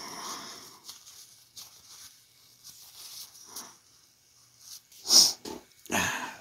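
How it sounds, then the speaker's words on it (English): A person blows their nose in several soft snuffling bursts, building to a louder, sharper honk near the end, close to the microphone with no talking. "Gotta blow my nose real quick."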